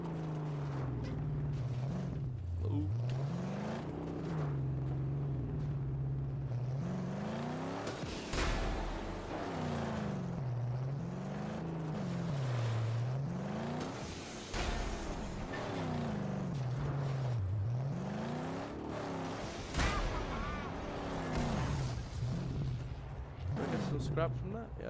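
A car engine in the Mad Max video game revs repeatedly, its low roar rising and falling in pitch in a steady cycle. It runs loud and continuous throughout, with talking over it.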